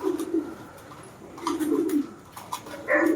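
Pigeons coo in a breeder's loft, several soft low rolling coos spaced across a few seconds, close by, with faint chirps and rustling around them.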